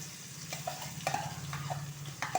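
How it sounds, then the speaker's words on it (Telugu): Chutney being stirred into a hot oil tempering in a pan, with soft scraping and light sizzling strokes repeating every half second or so, close and fairly quiet. "ఆ పోపులో ఇదేసి దగ్గరగా కలిపేది"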